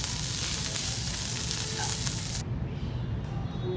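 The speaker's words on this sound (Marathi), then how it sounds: "पॅन गरम आहे तोपर्यंत आपण त्यामध्ये कोथिंबीर घालू. कांद्यासोबत कोथिंबीरही परतून घेऊ." Fresh coriander sautéed with onions in a hot pan for a Maharashtrian egg curry, a steady close sizzle of frying that drops sharply in brightness partway through, then continues as a softer hiss.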